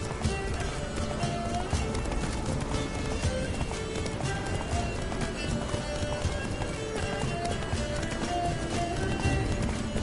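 A horse gallops in The Witcher 3 video game, its hooves beating a fast, steady clip-clop rhythm throughout, joined by brief whinnies over a dense in-game soundscape, with no speech.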